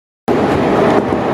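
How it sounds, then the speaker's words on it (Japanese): A JR 313 series electric train crossing the Tenryū River bridge, heard from inside the car: a sudden onset of steady, loud rumbling wheel and bridge noise that continues without pause. "電車は現在天竜川を渡っています"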